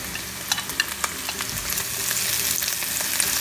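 Garlic and green pepper sizzle with pork in a hot pan, a close, steady frying hiss broken by a few sharp pops and stirring scrapes early on, growing denser toward the end.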